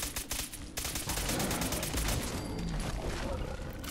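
Explosive automatic combat rifle in Fallout 4 fired against a Savage Deathclaw: a loud, continuous stream of rapid shots with blasts layered over it for the full four seconds.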